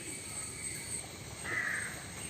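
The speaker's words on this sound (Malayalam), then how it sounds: "കാക്കയെല്ലാം വന്നിരിക്കുകയാണ്" Crows caw outdoors around a house on a rainy morning: one clear, moderately loud call about two-thirds of the way through, over a steady background hush.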